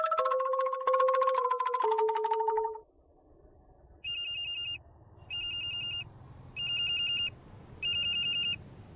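A telephone rings four times in short, evenly spaced electronic bursts at a shop, each tone loud and clear, after a stretch of tonal music and a quieter noisy gap.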